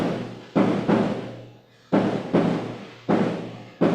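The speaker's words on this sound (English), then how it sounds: "fireworks are also going on as I speak" Fireworks bursting during the last night of a festival celebration in Kerala, heard as a run of loud, broadband booms and crackling blasts, several in quick succession with brief gaps, reverberant and fairly near, no talk.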